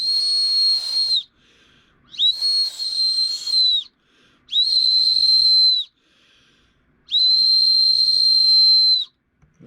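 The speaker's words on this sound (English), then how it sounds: "whistles are a good thing to have" Loud, shrill whistle blown in four separate blasts of one to two seconds each with short pauses between, close and alone with no talk.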